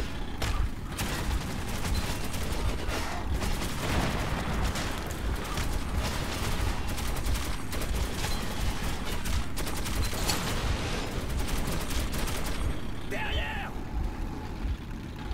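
Enemy gunfire in Metro 2033 Redux, rapid crackling shots running continuously at moderate loudness over a dense mechanical rumble, with a player speaking over it.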